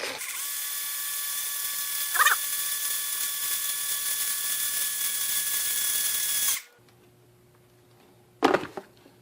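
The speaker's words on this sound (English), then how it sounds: "Plastic is easy to drill through" A steady, high-pitched power drill whines continuously for several seconds drilling a hole in plastic, then stops abruptly; after a short pause, a brief burst of drilling returns.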